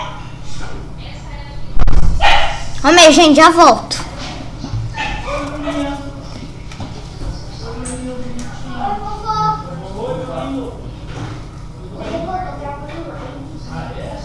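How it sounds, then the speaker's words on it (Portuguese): A pet dog barks and whimpers in a high, wavering burst near the start, then softer yips continue while a person talks over it. "Gente, desculpa vocês ouvirem. É a minha cachorra, tá?"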